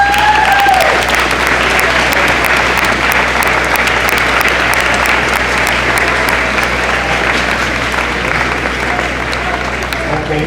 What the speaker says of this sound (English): And give your family a round of applause.